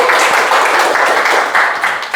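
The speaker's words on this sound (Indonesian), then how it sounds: "Tepuk tangan dong buat Bunda Ella nih" A studio audience claps for Bunda Ella, head of a regional crafts council, a short burst of many hands clapping in quick uneven waves that fade slightly toward the end.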